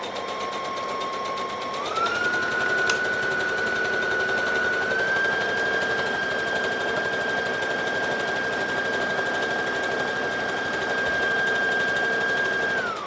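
A sewing machine runs continuously, stitching fabric for a Halloween costume with a steady mechanical whir. Its pitch steps up after about two seconds, then holds at a constant speed and stays loud until it winds down at the end.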